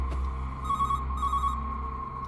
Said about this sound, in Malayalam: ഫോൺ ശബ്ദിച്ചു പെട്ടെന്നായതുകൊണ്ട് രഘു ഒന്ന് ഞെട്ടി അയാൾ ലാൻഡ് ഫോണിന്റെ പോയി അതെടുത്തു